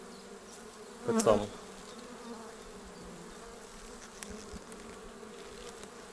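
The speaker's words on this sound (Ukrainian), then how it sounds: "це слабенька сімейка в мене на пасіці" Honeybees of a weak colony at an apiary, a low, steady hum with one brief, louder buzz passing close early on, plus a few short spoken words.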